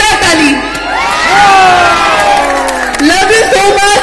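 Large outdoor concert crowd at a Bhojpuri show in Jaipur, Rajasthan, cheering and whooping loudly in the rain, with shouting voices rising and falling across the whole stretch.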